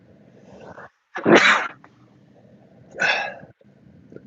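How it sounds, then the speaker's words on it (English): Two sharp sneezes burst out a couple of seconds apart during a late-night scooter ride, loud and close over a faint, low background rumble. "I'm sneezing."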